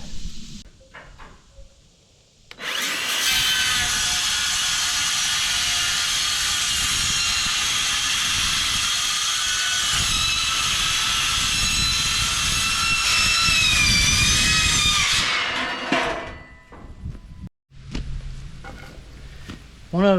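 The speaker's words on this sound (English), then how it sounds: "if you're going to be cutting metal with a saw like this, you need ear protection, man. It is loud." A saw cuts through metal roofing sheet during a porch roof install, starting abruptly and running as a loud, steady, harsh screech for about thirteen seconds before winding down, with a few faint sounds after it stops.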